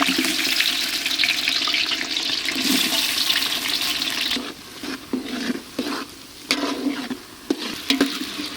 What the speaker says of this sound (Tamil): இதை நல்லா போட்டு வறுத்துக்க போகிறோம் எண்ணெயில் நல்லா பொரிச்சிக்கலாம்